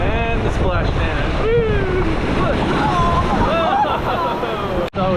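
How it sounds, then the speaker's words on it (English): Water slide ride at Typhoon Lagoon splashing down into the pool, a loud rushing wash of water and wind-buffeted noise with excited voices over it. "And the splash down."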